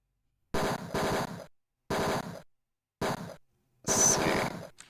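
Bursts of rapid automatic gunfire from the 1989 detective game Tex Murphy: Mean Streets, four close, loud volleys separated by short silences, with the last burst harsher and longer.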